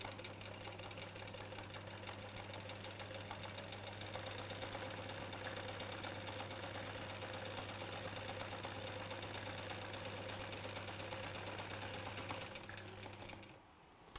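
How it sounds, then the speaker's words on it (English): A sewing machine stitches a quarter inch seam joining two pinned fabric layers, humming steadily and quietly nearby for about thirteen seconds before stopping. "It's amazing how different machines sound, isn't it?"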